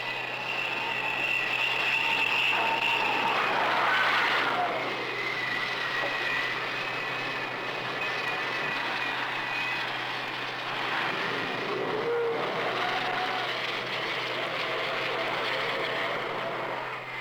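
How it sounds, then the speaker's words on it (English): A steady, high-pitched jet engine whine from a Phantom aircraft on landing approach drones continuously at moderate distance, with a broad roar underneath and no pauses. "some engines have a characteristic pitch, like the sound of the F-0570"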